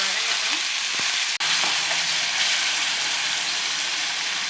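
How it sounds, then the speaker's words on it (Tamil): Tomatoes sautéing in oil with popped mustard seeds in a pan for mango jaggery thokku, a strong steady sizzle with a couple of stirring knocks and a brief cut near the start, no speech. "தக்காளி போட்டுக்கோங்க. தக்காளி கொஞ்சம் வதங்கட்டும்."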